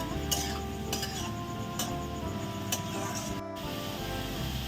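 Mushrooms and vegetables sautéing in a pan with a little water, a steady loud sizzle running throughout, punctuated by a few sharp clinks and scrapes of a utensil stirring against the pan.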